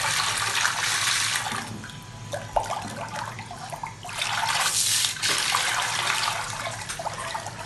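A 24V brushless DC micro water pump, rated 30W with 10m lift and 750 litres per hour, pushes water in a steady loud rushing, splashing flow that swells and dips slightly throughout with no voices.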